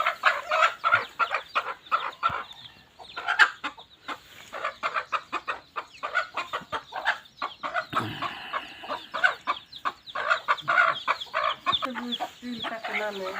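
A hen brooding on a clutch of eggs clucks repeatedly in short, uneven bursts, close and moderately loud, with faint human voices now and then in the background.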